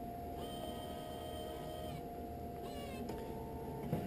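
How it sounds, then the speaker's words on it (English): An optical lens edger hums faintly and steadily as its calipers trace a Ray-Ban 5289 frame shape onto a Transitions Gray lens, with a few soft, high chirping tones from the machine over the drone. "the calipers are going to come down and trace the shape of your frame onto the lens"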